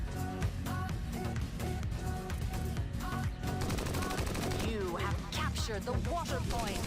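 Rapid bursts of gunfire from shooting minions in the pig-themed mobile MOBA PigBang, a dense steady rattle mixed over busy game music and effects.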